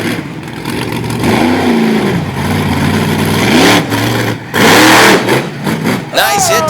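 John Fitzgerald's Iron Warrior monster truck at a 2018 monster truck event in Honesdale, Pennsylvania, its loud engine revving up and down in repeated rising and falling surges beneath a commentator's continuous talk.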